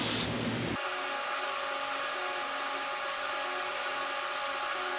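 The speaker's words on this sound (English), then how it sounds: "You just want to make sure you get the spray all the way to the edge." Spray adhesive hissing steadily from a can onto car headliner fabric and foam backing, a continuous close broadband spray that starts abruptly after a brief rustle and holds without pause.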